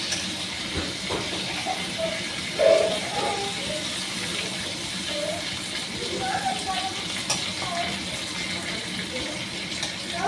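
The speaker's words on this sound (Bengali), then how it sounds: "মেথি গোলমরিচ আর লবঙ্গর সাথে একটু নাড়বো" Fenugreek, black pepper and cloves fry with curry leaves in a pan, giving a steady hiss and sizzle with occasional stirring scrapes and a brief clank.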